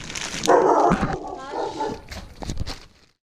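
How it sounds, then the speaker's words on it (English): A dog in a kitchen gives a few loud, close barks and yips, overlapping with some talking. "And there goes the dog"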